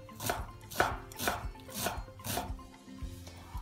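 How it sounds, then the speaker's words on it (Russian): A knife chops a small head of Chinese cabbage into thin strips on a board, about six crisp, evenly spaced strokes close to the microphone with no talking. "Нарезаем тонкой соломкой."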